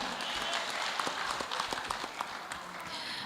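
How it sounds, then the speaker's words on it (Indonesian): An audience at a public mayoral candidates' debate in Manado claps for the candidates, a soft, scattered patter of applause heard from a distance throughout. "Kita berikan aplaus untuk semua pasangan calon."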